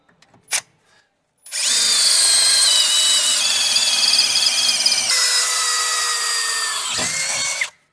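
After a brief click, a power drill with a large bit whines steadily for about six seconds at high speed, close and loud, its pitch shifting slightly as it bores a pilot hole into material.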